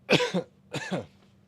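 A person coughs twice in quick succession, close and clear, each a short harsh burst with a brief gap between, followed by quiet.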